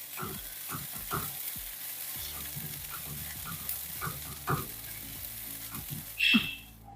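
Ground masala frying with onions in a pan for beef vindaloo, a soft continuous sizzle punctuated by intermittent scraping and stirring knocks of a utensil, with a brief sharper clink near the end.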